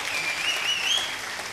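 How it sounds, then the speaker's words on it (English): Brief burst of applause from a small audience at a cruise ship talent show, hands clapping densely and evenly, fairly close, with a faint whistle rising above it. "let's give a nice round of applause one more time"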